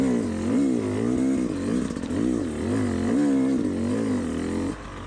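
Two-stroke Yamaha YZ250X dirt bike engine revving and pulling under load on a trail, a loud buzzing note that rises and falls in repeated surges before dropping off near the end.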